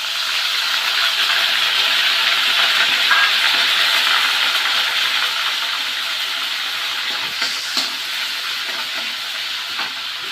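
Spice paste hits hot oil in a pan and sets off a loud, dense, steady hissing sizzle that holds for about ten seconds, easing slightly toward the end, close up with no talk.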